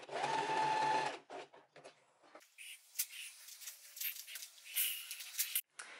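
A sewing machine stitches a linen dress, running in a loud steady burst at first and then in short stops and starts of stitching, close by and with no talk.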